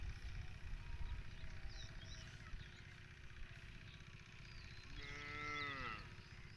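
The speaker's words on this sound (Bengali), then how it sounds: "মেয়ে বাছুর বা আমরা বকন বলি, বকন বাছুর" A thin, weak female calf moos once, a drawn-out call rising over steady low background rumble near a potato field.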